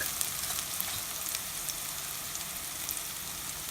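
Steady, crackling sizzle of hot oil in a pan as turmeric goes in while cooking a cauliflower and peas fry, a dense continuous frying hiss close up with no voices.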